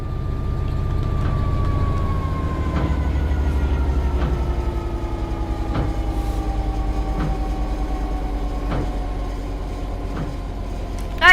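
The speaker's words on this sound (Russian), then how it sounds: "The train will then coast on level ground, and the train will only slow down very gradually." A train in Train Sim World 3 coasts on level ground with the throttle at zero: a steady, loud rolling rumble and a falling hum, punctuated by regular clicks of wheels over rail joints, with no voices.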